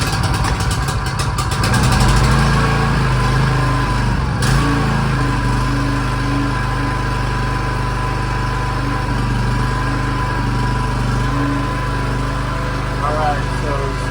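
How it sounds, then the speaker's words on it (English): A Champion portable generator engine catches on the first pull with the choke fully on, then settles into a steady, loud idle that runs continuously up close, with a voice speaking over it. "Alright, so started on the first pull it with the choke all the way on"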